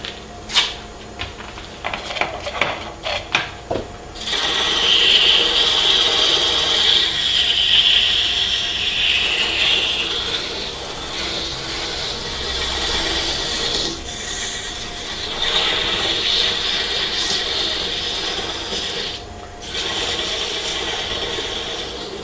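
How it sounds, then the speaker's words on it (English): Sandpaper rubs against a wooden BBQ spatula spinning on a wood lathe, giving a continuous rasping hiss over the lathe's hum, with brief clicks at the start and a pause partway through. "I'm gonna go each grit go back and forth so it does it evenly"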